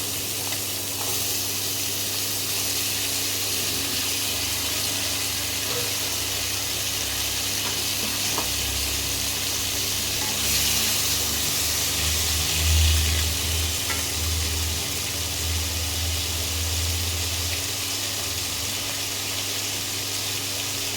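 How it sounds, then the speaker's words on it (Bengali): Diced potatoes fry in a modest amount of oil with turmeric and salt, giving a continuous close sizzle with brief stirring bursts, alone and without talk. "এবার এই তেলের মধ্যেই আলুটা ভেজে নিচ্ছি।"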